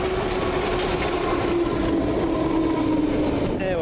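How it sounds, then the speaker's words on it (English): A London Underground Piccadilly line train pulls into Stamford Brook with a steady loud rumble and rising whine of wheels on rail, a squeal of brakes coming in near the end. "here comes another Piccadilly train"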